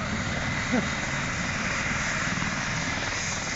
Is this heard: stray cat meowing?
no